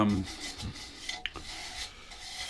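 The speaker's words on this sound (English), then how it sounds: "finish off the outside here, probably scraping it all, just to try and get rid of any tool marks." Hand scraper working over the outside of a turned oak bowl: faint, soft rasping strokes with a few brief sharper scrapes and clicks, quiet and close, with no talk.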